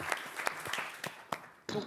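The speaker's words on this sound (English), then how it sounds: "Paul Beaurepaire deserves a round of applause too" Scattered applause from a press-conference audience at Cannes, uneven individual claps rather than a full ovation, moderately close in a room.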